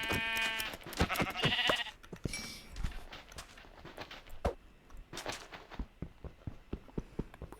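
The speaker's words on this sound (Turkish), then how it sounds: "Şuradan şu koyunu bir öldürelim." Sheep in the video game Minecraft bleat several times in quick succession, close and clear. Soft footsteps and clicking game sounds continue afterward.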